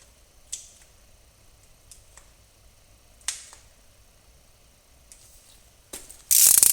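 A torque wrench on the rear wheel spacer bolts of a John Deere 2025R tractor, set to 70 foot-pounds: a few sparse sharp mechanical clicks, then a loud burst of rapid ratcheting at the end.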